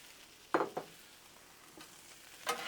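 Peppers and onions are stirred on a Blackstone griddle, a couple of short scraping bursts followed by a faint sizzle and another stir near the end, fairly quiet overall.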